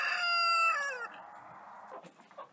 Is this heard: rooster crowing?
yes